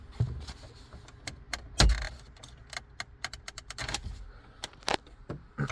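Jeep Compass dashboard trim panel pried off by hand, with a series of sharp plastic clicks and snaps, one louder pop, and light rattling of the loosened panel, all fairly close and quiet.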